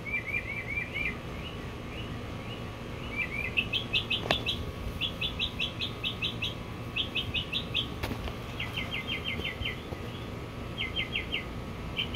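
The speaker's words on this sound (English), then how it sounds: "Birds out here cheering me on this one." Birds chirp outdoors in short, rapid trilled bursts that repeat through the whole stretch, clear over a low steady background rumble.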